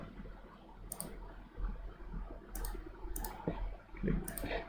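Mouse right-clicks on a computer during structural design work, heard as four sharp, close clicks in short bursts over a quiet room hum.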